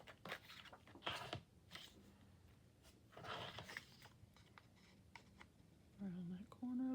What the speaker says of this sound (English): see how well I can cut a straight line